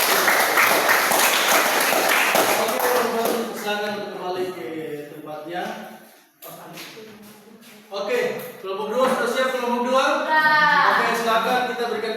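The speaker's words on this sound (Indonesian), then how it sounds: "Kita berikan aplaus kepada kelompok 1" A class in a teacher-training session applauds group 1 after their discussion presentation, broadband clapping filling the room at first and then thinning out while people talk over it.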